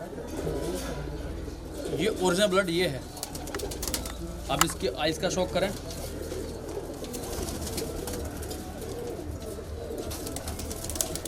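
Kalpare high flyer pigeons coo in a loft, a cluster of rolling coos rising around the two-second mark and again near five seconds, close and moderately loud, with someone talking over much of it.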